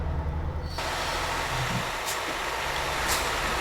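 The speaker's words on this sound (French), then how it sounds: "je vais couper un peu le moteur pour pas gaspiller trop d'essence" Truck engine shutting off in Euro Truck Simulator 2: a low idling rumble cuts out after the first moment, leaving a hissing air-release wash and a brief low thump.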